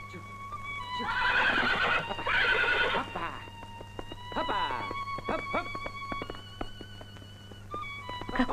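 A horse whinnies loudly twice in a Soviet 1979 film scene, followed by a quieter neigh and a run of sharp hoof clip-clops, with a low steady hum underneath.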